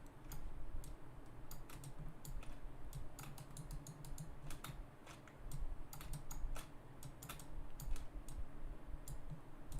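Irregular clicking keystrokes on a computer keyboard during 3D visual-effects work, a steady run of close, moderately quiet taps over a low background hum.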